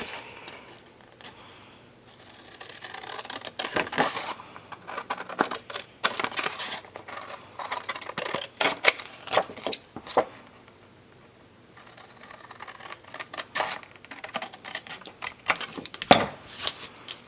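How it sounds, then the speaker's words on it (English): Scissors cutting paper for a 6x6 mini scrapbook album, a run of close, crisp snips and crunches in uneven bursts, with a quieter pause in the middle before the cutting resumes. "I'm just going to cut that out. I'm just going to use my scissors."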